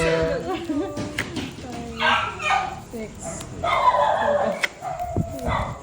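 A dog yips and barks in short excited bursts, mixed with whimpering, under steady talking voices nearby.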